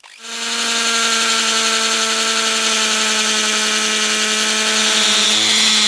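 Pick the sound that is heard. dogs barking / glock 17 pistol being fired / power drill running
power drill running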